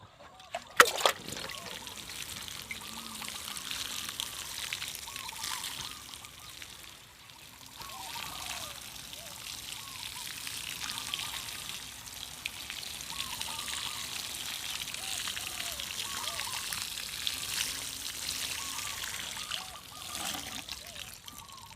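Water is poured over young garden vegetables, including spring onions, salad greens and eggplant plants. Soft, uneven splashing and trickling continues for a long stretch, with a brief sharp knock near the start and faint voices in the background.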